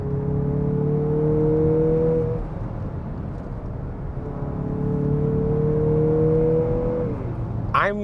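A 2023 Mazda CX-50 SUV accelerates hard from inside the cabin, its engine note climbing steadily, dropping at a gear change and rising again, loud and close with no talking.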